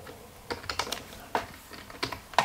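Keys on a computer keyboard clack in a short, uneven burst of close, distinct taps, a few quick strokes clustered together with brief pauses between, sounding alone.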